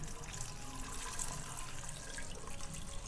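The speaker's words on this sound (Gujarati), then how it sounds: "તો આપણે પાણી નાખી દઈશું" Water splashes and rushes steadily as it is poured into a cooking pot of cut potatoes, fairly quiet and continuous.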